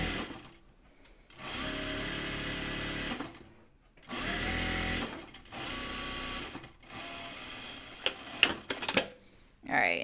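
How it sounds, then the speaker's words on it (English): A sewing machine whirs in several bursts, stitching bright white fabric for an unlined jacket steadily then stopping, with quiet pauses and handling sounds between runs. "I'm just smoothing it out with the sewing machine."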